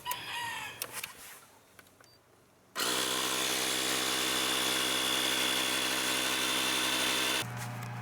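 A portable air pump runs steadily for about five seconds, a loud buzzing mechanical drone with a strong harmonic hum, starting abruptly after a quiet stretch and cutting off near the end.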